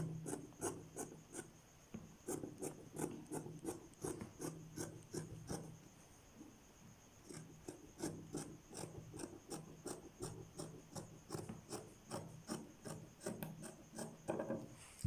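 Scissors trimming cut fabric pieces for boxer shorts, a series of quick, regular snipping strokes close by at an even rhythm, quiet overall, pausing briefly midway before resuming, with no voice.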